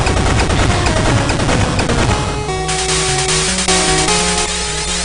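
Fusion reactor explosion in the Game Boy game Mega Man 5, a loud burst of rapid, crackling chiptune blasts that settles into lower repeating electronic tones.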